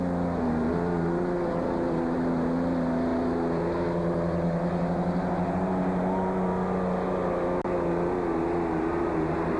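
A heavy diesel pulling-truck engine roars steadily at high revs during a truck pull, its deep rumble building in strength throughout, loud and close with no pauses.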